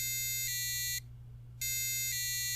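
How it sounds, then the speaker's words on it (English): A micro:bit buzzer sounds a soil moisture sensor alarm as loud, shrill electronic tones in two bursts, each with a shift in pitch, separated by a short silence, over a low steady hum. "With this fantastically annoying buzzer, I should not forget to water my plants"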